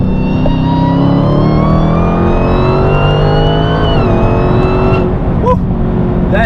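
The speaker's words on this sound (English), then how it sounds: "I made a quick wide open throttle hit." A car engine on E85 race fuel revs at wide open throttle. It gives a loud, continuous roar whose harmonic whine climbs steadily, then dips and fades toward the end.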